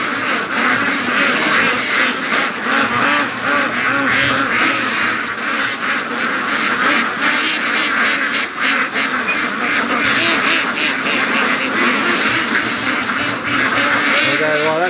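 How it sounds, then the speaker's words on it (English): Free-range ducks, including Muscovies, quack loudly and continuously near a lake, a dense overlapping flock chorus with a person talking over it. "let the ducks have some room"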